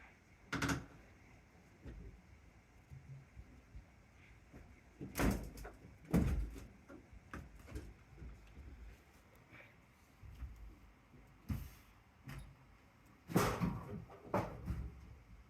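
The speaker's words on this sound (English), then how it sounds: "That's the door." Indoor door opened and shut several times, with sharp knocks and thuds spread unevenly through a quiet room and moderate loudness, no talking.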